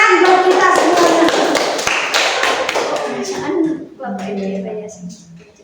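Fifth-grade class clapping hands together, a lively run of claps and taps over the first three seconds, followed by a teacher's voice speaking.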